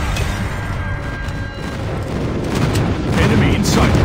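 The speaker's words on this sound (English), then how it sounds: "Friendly airstrike incoming." Airstrike explosions in the mobile shooter Call of Duty Mobile: continuous heavy booming and rumbling with scattered blasts, growing louder toward the end, all dense and close.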